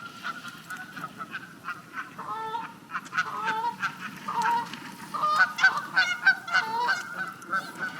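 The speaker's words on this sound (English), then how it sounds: "We're having a goose fight." Geese fight with loud, repeated honks and squawks, some overlapping in rapid bursts, over a low steady background hum, with no speech.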